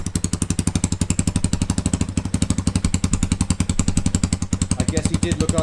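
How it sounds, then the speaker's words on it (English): A Kayo 230 T4 dirt bike engine idles just after its first start, a close, loud, fast and even chain of putting pulses that holds steady throughout with no talking. "So I'm just going to let this idle to warm up the engine oil"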